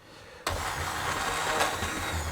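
A blender purees a soup of spinach, salmon and coconut milk, switching on abruptly after a brief quiet moment and then running with a loud, steady whirring roar to the end.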